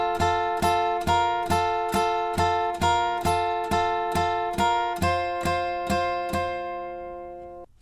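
A guitar plays the opening line of a solo, a steady run of a dozen evenly plucked notes, clean and close up, with the last notes shifting higher and ringing out at the end.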